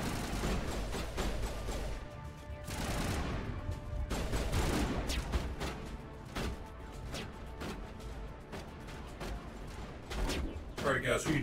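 Scattered gunshots and bursts of weapon fire from the video game Mass Effect 1 crack out irregularly over about eleven seconds, mixed with game clatter and some background voice.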